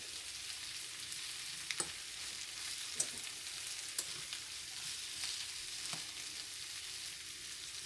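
Potatoes and onion frying in a skillet give a soft, continuous sizzle, with a few sharp clicks and taps of stirring scattered through it and no one talking.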